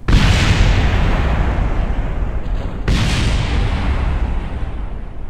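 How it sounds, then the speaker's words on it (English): A rocket explodes in the Kerbal Space Program video game, giving a loud, sustained roaring blast with a second burst of noise partway through, rumbling on for several seconds without talk. "You got your explosion."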